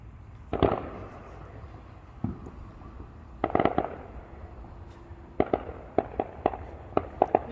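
Backyard fireworks set off by a family, sharp bangs and crackling bursts going off at irregular intervals, with a cluster of rapid pops near the end, heard from fairly close in open air.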